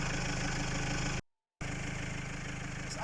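A camper van's engine idles steadily after a flywheel repair, a continuous mid-pitched hum that cuts out briefly and then picks up again, close and without talk.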